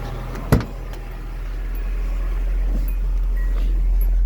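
Engine of a 1989 Nissan D21 pickup 4x4 with a manual five-speed, steady low rumble building slightly as it pulls away after a brief knock near the start, close and continuous with no talk.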